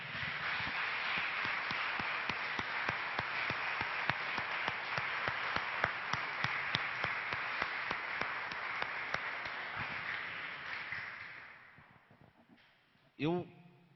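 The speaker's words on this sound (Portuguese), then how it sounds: "Você pode aplaudir a Jesus por essa palavra?" A church congregation claps for about twelve seconds, a broad, steady wash of applause with sharp individual claps standing out, before it fades and a brief voice cuts in.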